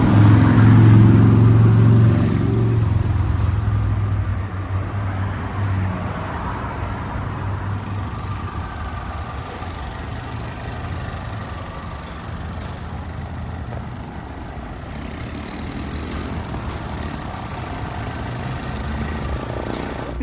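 The engine of a 2023 Nissan Altima SR 2.0 VC Turbo, front-wheel drive, runs under the open hood, a loud low rumble at first that settles into a steady, even idle hum.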